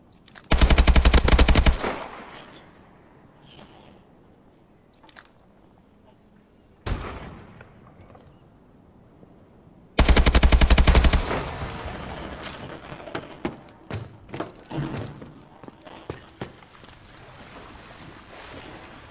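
Automatic gunfire in a first-person shooter: two loud, sustained bursts several seconds apart, with a lone sharp shot between them and scattered smaller shots trailing off over a quiet background.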